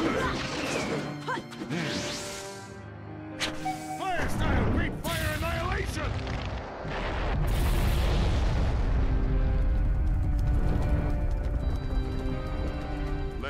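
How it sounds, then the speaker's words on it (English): Fire style Great Fire Annihilation jutsu blast in a Naruto Ultimate Ninja Storm 3 battle: loud roaring crashes and booming bursts layered with game effects and music, sustained and dense, with shouted voices over it. "Fire style, great fire annihilation!"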